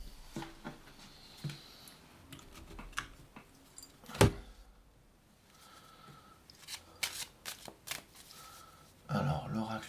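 Oracle cards being shuffled and drawn, three cards pulled one after another: soft papery riffles and slides with a few sharper snaps, close and quiet, mixed with light handling noises.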